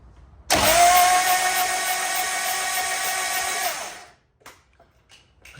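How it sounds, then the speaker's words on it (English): A Caterham Seven's starter cranks the engine in one continuous whirring burst of about three and a half seconds, loud and close, then cuts off to near silence, no voices. "let's just see if we can crank the motor and see if we see any spark"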